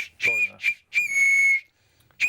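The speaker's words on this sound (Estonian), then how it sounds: "nüüd ma murtsin lahti selle, nüüd ta võib-olla teeb siis paremat vilet" A 3D-printed whistle with a small ball rattling inside gives several shrill, steady whistle blasts in a row, the longest held for about half a second, loud and close.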